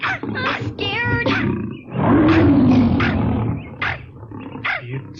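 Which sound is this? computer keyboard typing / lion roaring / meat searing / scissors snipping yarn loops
lion roaring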